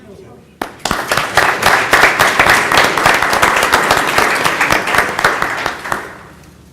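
Audience at a school board meeting breaks into a burst of clapping that builds quickly, holds as dense, steady applause for several seconds and then fades, heard close in a room.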